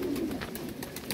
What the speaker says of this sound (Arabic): عشش وحظائر طيور الحمام.